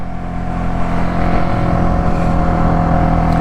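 A Polaris Predator 500 ATV engine roars at steady high revs, loud and close, a continuous rough drone with no speech over it.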